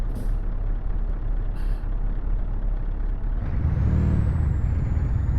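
A heavy truck engine in Euro Truck Simulator 2 starts and rumbles low and steady, then a hissing air-brake release and a rising engine surge near the end.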